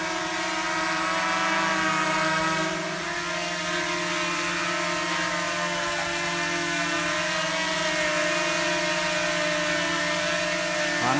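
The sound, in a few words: mini drone EX5 GPS brushless motors flying outdoors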